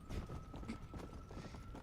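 Hooves of a stark white horse with a horn, a unicorn in the Red Dead Redemption Undead Nightmare video game, clop in a quick rhythmic run, fairly faint and steady.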